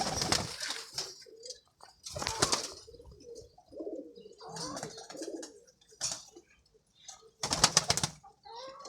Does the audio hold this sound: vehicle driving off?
no